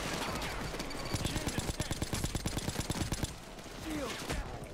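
Rapid automatic gunfire in the video game Payday 2, a steady stream of sharp shots firing close and loud for several seconds before easing off.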